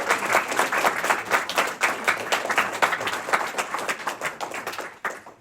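A lecture audience applauds with a big round of steady, rhythmic clapping that stays loud and continuous for several seconds, then thins out at the very end.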